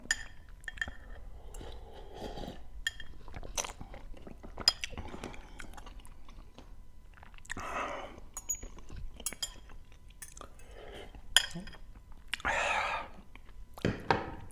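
Someone eating the spiciest instant noodles, with close chewing and slurping bursts and light clinks of utensil against a bowl, spread unevenly through the quiet.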